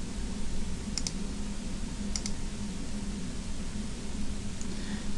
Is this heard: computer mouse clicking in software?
yes